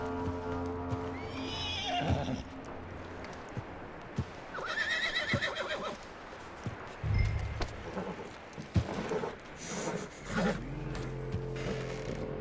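Horse in Red Dead Redemption 2 whinnying and snorting, with clip-clop hoof steps, tack rattles and short mechanical clicks scattered around at moderate distance.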